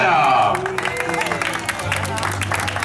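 A party crowd at a grandmother's birthday celebration in Penha gives a round of applause, claps and cheers rising under a voice calling out, then settling into steady clapping with background chatter.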